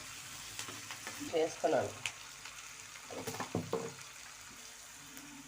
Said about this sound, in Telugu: ఆనియన్ త్వరగా వేగేదానికి